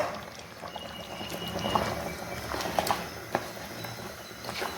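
Ground coconut paste poured into a pot of cooked country chicken curry gives a soft, steady liquid gurgle and bubbling with occasional small splats, close and fairly quiet.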